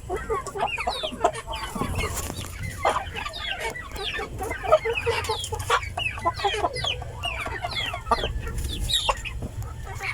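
Free-range Mix Heritage chickens clucking in a yard, many overlapping short clucks and chatter from several birds near and far, with a low background hum.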